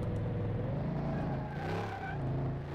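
A very loud engine of the Smith car in Car Mechanic Simulator 2018 drones and revs steadily, with the pitch rising and falling slightly as the gas is pressed.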